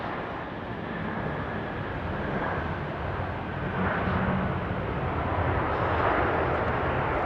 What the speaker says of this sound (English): The four-engined aircraft there on takeoff